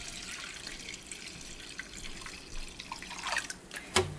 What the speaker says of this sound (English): I'm putting in 2 quarts of apple cider.